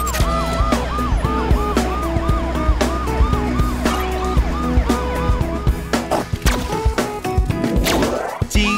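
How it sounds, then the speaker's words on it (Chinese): A cartoon police car siren wails in a steady repeating two-tone pattern over a bright children's song backing with thumping percussion, loud and continuous before breaking into a rising sweep near the end. "警车，警车，滴滴呜"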